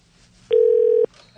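A single loud, steady telephone tone sounds on a radio call-in line, holding for about half a second and then cutting off sharply against a quiet background.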